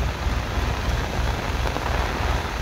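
Heavy rain pours during a storm, a loud, dense, continuous hiss and patter of drops on surfaces that holds steady throughout with no voices.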